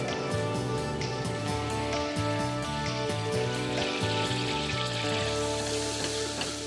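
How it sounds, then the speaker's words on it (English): Butter browning in a pan on a home kitchen stove gives a steady, soft, even sizzle and crackle that carries on without pause and stays fairly quiet. "Now when you're browning butter"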